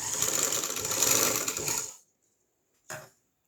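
A sewing machine stitches the lining of a kurta in a fast, steady whir for about two seconds, then stops. After a pause, one short mechanical burst follows.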